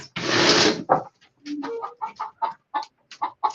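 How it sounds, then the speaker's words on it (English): Backyard chickens clucking and squawking close by, opening with a loud flurry of agitated calls followed by a quick series of short, rhythmic clucks, with no voices present. "What is going on with my freaking chickens, guys? Do you hear all this in the background?"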